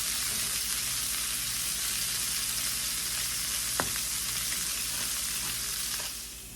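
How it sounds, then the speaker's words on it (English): Broccoli sizzles steadily in a hot pan, a dense continuous frying hiss with a brief clink of stirring partway through, close and alone with no talking. "let that broccoli cook for about 6 minutes, constantly kind of be stirring it"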